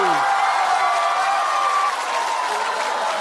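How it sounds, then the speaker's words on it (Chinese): A studio audience applauds for comedian Wang Mian at a Chinese comedy show, steady clapping from a crowd under a sustained tonal sound, with a voice speaking over it at the start. "让我们掌声再次送给王冕"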